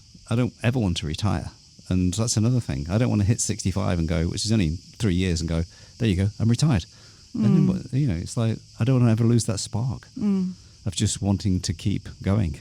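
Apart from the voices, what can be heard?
cicadas chirping near an olive grove in Greece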